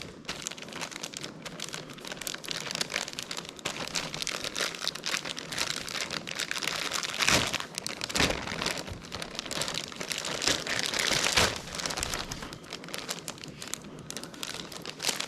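The plastic bag of a Kufandi rain jacket crinkles and crackles steadily up close as it is handled and opened, with a few sharper rustling bursts along the way.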